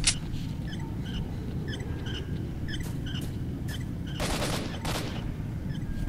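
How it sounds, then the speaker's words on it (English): Gunfire in the video game S.T.A.L.K.E.R.: Shadow of Chernobyl, a string of distant rapid shots and cracks over a constant low rumbling ambience, with a couple of louder bursts near the end. "They're shooting."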